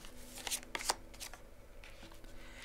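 Lise Bartoli Lumière oracle cards are shuffled close up, with a few crisp riffling bursts early on and then softer sliding and handling of the deck.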